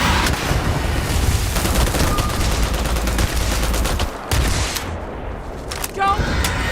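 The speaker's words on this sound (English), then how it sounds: "Need something that shoots actual bullets." Bullet-firing weapon in the sci-fi game Starfield, heard as loud, rapid bursts of gunfire crackling almost continuously with heavy booming impacts and a brief lull near the end.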